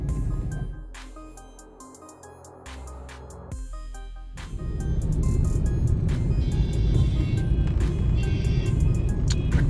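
Cars drive fast along a road in Lucknow, with engine and tyre noise rising into a steady roar of passing traffic after a quieter stretch with scattered knocks and clicks.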